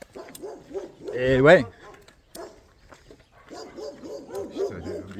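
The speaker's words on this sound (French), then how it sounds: "Les chiens nous disent au revoir." Dogs in a small village bark and yip repeatedly, one loud close burst of barking followed by a run of quieter whimpering calls, with a person speaking briefly over them.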